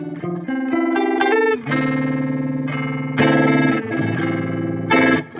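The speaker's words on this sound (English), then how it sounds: "Let's blend the harmonic and tremolo mode so we get a little bit of volume and harmonic undulation." An electric guitar runs through an effects pedal blending harmonic and tremolo modes, producing loud sustained distorted chords and melodic notes that undulate in volume and tone, played close with no talking.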